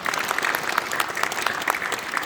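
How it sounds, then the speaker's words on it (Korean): Audience applause at a Korean church and Christian school foundation ceremony, a steady dense clapping from a seated crowd that holds evenly for its whole length with no voices over it. "해성교회와 경신학원의 감사의 인사로 박수하도록 하겠습니다."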